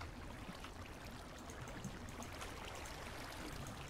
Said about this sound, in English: so we don't have all that running water sound